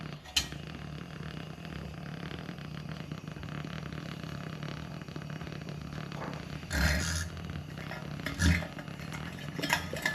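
A Coleman 220F pressurized gas lantern burns with its valve cranked fully open, giving a steady, close-up roaring hiss that holds at an even level, with a few brief louder bumps along the way.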